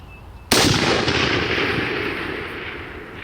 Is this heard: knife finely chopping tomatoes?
no